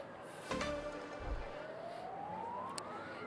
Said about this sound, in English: We've heard some sirens in the distance, though.